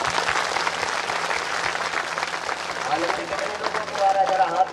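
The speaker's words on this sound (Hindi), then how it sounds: "जोरदार ताली तो बजाती रहो।" Applause from a crowd at a village divine court gathering in Mau, a dense, continuous patter of many hands clapping close by, with a few brief voices rising briefly over it.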